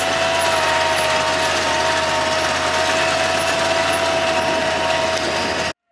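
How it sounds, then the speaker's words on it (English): A loud, steady engine drones continuously with a mechanical whine, an old Ford tractor pulling a sprayer through a field at constant speed, before cutting off abruptly. "Can't be too many people still using these old Fords to spray like this."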